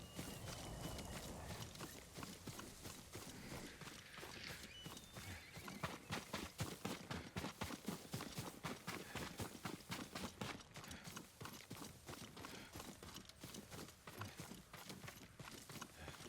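Steady clip-clop of horse hooves trotting close by, rhythmic and continuous, with a whinny early on and ambient game sounds around it, in the video game Ghost of Tsushima Director's Cut.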